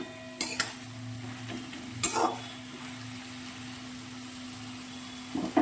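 Prawns are stirred with chopped banana flower in a pan over a faint, steady sizzle, with a few scraping knocks of a spatula and a low hum underneath.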